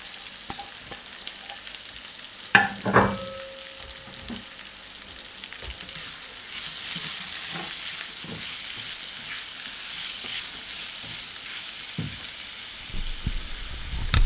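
Onion dropped into a hot pan for a seabass dish with shrimp paste and chili paste sauce, a sharp clatter followed by steady sizzling frying that swells and persists.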